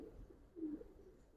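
Giribaz pigeons in a loft giving a faint low coo, a single soft murmur over quiet background hum.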